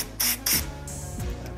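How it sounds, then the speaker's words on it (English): Two short bursts from an aerosol can spraying gun oil into an airsoft Glock, followed by a longer, softer hiss, close up, with quiet clicks between. "I'll just spray some oil into it as well."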